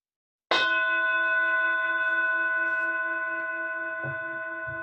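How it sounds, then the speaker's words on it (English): A meditation bell is struck once, a sharp close strike blooming into a long, pure ringing tone that slowly fades over several seconds, with faint soft knocks near the end. "allow the sound of the bell to draw you deeply inward."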